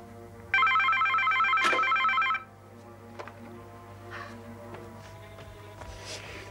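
A telephone bell rings indoors in one loud trilling burst of about two seconds. It then stops, leaving a quiet room with faint small movements.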